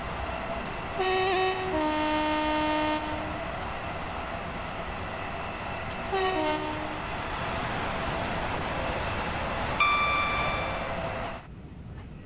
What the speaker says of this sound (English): Sound the horn in Train Sim World.